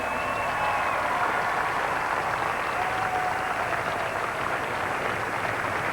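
Dense, loud, sustained applause from a studio audience at the closing of a 1990 Opération Enfant Soleil telethon, an even roar of many hands clapping with no talk over it.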